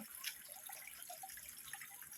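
Water trickling and splashing down a small homemade garden waterfall built from scrap foam, a faint, steady flow with light drips and no voices.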